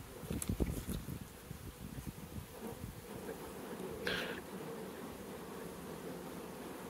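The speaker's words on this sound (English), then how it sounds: "so many bees" A dense buzzing of a large honey bee mating swarm fills the air, steady throughout, with some brief rustling and thumps near the start.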